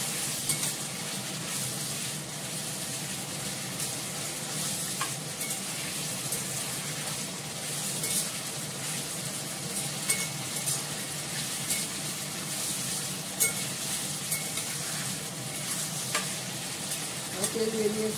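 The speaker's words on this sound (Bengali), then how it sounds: "দেখতে পাচ্ছি যে ফুটছে টলপট করে, তেলটা বেরিয়ে এসছে।" A thick mixture bubbles and sizzles in oil in a kadai as the water cooks off and the oil separates, a steady close frying hiss with small pops and occasional stirring scrapes, with no talk over it.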